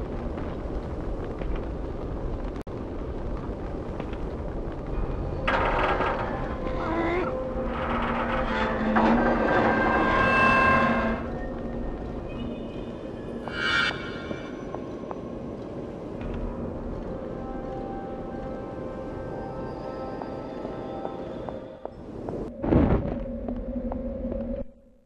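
Wind in the PS2 game Primal blows as a steady broadband rush. It swells and gusts for about twenty-five seconds with no talk.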